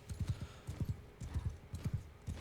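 Horse hooves galloping in the video game Mount & Blade 2 Bannerlord, a fast repeating clip-clop rhythm of hoofbeats at moderate loudness with no talk over it.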